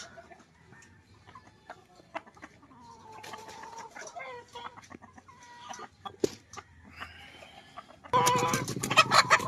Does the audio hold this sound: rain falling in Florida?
no